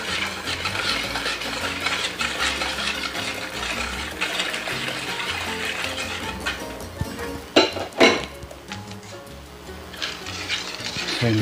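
Kutsinta batter of brown sugar and water is stirred continuously, with a swishing, scraping churn and a couple of louder knocks against the container near the end.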